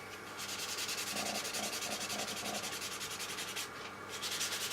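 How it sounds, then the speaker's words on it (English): Leather edges being sanded by hand, a rapid, even back-and-forth scratching rub repeated steadily throughout, close and fairly loud with no talking. "I feel already that this is too fine, so I just sand it down"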